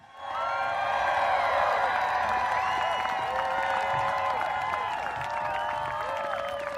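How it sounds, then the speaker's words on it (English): Steady audience applause and cheering at a gathering, a dense wash of clapping with scattered whoops that holds at a moderate level for several seconds. "Give yourself a round of applause for being here."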